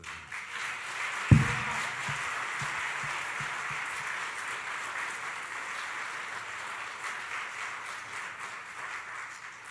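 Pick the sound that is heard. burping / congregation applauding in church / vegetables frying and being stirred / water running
congregation applauding in church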